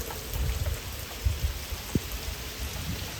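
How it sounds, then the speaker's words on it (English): Steady rain falls on a garden, an even hiss of drops across the whole stretch, with a few sharper nearby drips and thuds standing out, and no voices. "It said it was going to rain around 2 o'clock this afternoon, and it actually started around 4:30."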